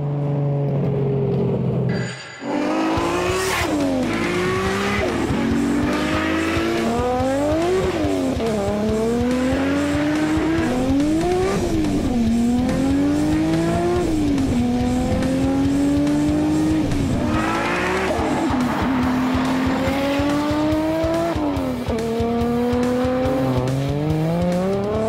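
A Nissan R32 GT-R engine screams loudly and continuously, revving up and down through repeated rising and falling sweeps, with tire squeal layered over the engine as the car is driven hard.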